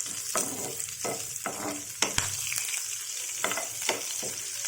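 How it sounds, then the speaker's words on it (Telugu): Tempering spices frying in oil in a pan for a ridge gourd coconut chutney, a close, soft continuous sizzle broken by repeated scraping stirs. "పోపు దినుసులు వేసేసానండి."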